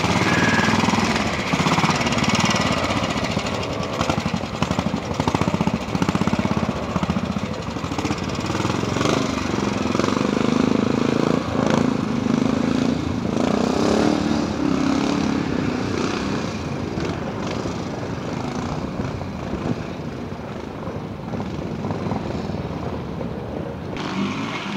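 A Royal Enfield pre-unit trials motorcycle runs through a quarry section, its engine a loud, continuous, rough drone, close by and varying slightly as it is ridden.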